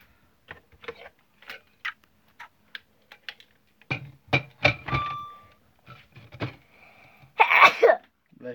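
A single sharp sneeze bursts out near the end, loud and close, after a stretch of soft clicks, ticks and chimes from a children's online reading game.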